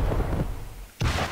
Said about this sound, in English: Keep firing the missiles.